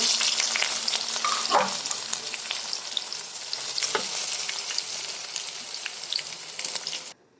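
Leafy greens sizzle steadily in hot oil over fried onion and garlic, a dense, close crackle with occasional stirring scrapes, continuing evenly before cutting off abruptly near the end.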